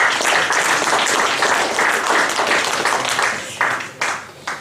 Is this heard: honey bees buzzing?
no